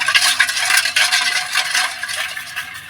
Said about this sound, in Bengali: এবার সব কিছু ভালো করে মিশিয়ে নেব